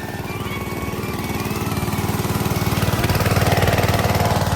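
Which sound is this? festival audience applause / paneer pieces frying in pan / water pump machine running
water pump machine running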